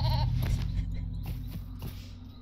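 A goat in the online game Lord of the Rings Online gives a loud, wavering bleat at the start, followed by quieter game ambience with a few soft clicks.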